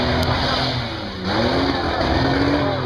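A 1984 Ford Ranger truck at a tough truck competition revs hard, its engine rising and falling in a loud mid-pitched roar with a brief dip before climbing again, close and continuous with crowd ambience behind.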